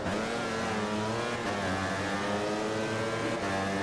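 A motorcycle engine in the MotoGP 15 racing game holds a steady high-pitched drone under open throttle, its harmonics rising slightly, continuous and loud with no talk over it.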